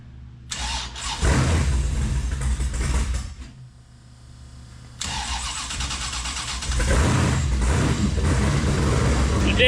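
A sandrail's freshly swapped engine cranks, catches and runs with a rough mid-pitched idle, drops off briefly, then fires again and keeps running close by.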